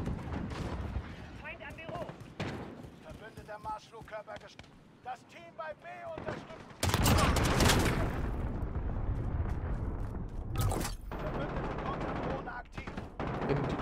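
Loud, sharp bursts of auto-shotgun fire crack out in Call of Duty, with a heavy blast around the middle, over and between bits of talking.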